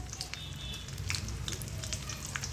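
Cauliflower, carrot and other mixed vegetables fry in oil, giving a steady, faint sizzle with scattered crackles and pops throughout, no voices.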